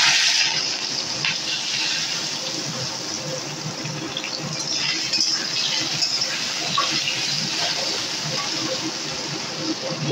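Taro stolons (kochu loti) dropped into hot oil give a steady, close, broadband sizzle and crackle that holds evenly for about ten seconds with no voices.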